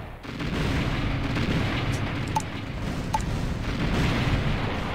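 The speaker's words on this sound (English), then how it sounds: "he's using air units to spot for his artillery, so he's got some heavy firepower" Continuous rumbling battle din from the real-time strategy game Red Alert, with V2 rockets, air-spotted artillery and heavy guns firing, dense low booms layered steadily throughout with a couple of sharper distinct hits.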